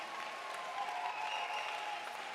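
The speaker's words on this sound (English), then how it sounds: "Can we all stand and give them a rousing round of applause?" Audience at a graduation ceremony standing and applauding the graduates, a steady wash of clapping that sounds fairly distant and soft and stays even throughout.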